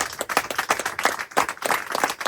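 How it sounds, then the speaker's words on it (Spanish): A church congregation applauds with steady, dense clapping that swells and dips slightly in strength and continues throughout. "Fuertes aplausos al Señor."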